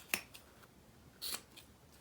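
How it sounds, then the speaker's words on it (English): Scissors snip extra threads off a freshly sewn fabric wristlet, two crisp close cuts about a second apart with a few faint clicks between them. "Cut through all that. Trim our extra threads."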